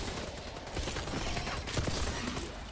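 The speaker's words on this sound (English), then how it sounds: "He's actually shooting stuff for once." Automatic gunfire in Call of Duty: Advanced Warfare, a dense, continuous noisy stream of rapid shots with no talking.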